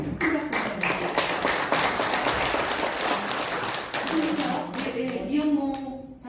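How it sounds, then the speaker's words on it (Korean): Large audience clapping for a speaker at a women's association symposium in a National Assembly meeting room, dense sustained applause filling the room, with a voice speaking over it near the end. "큰 박수 부탁드립니다"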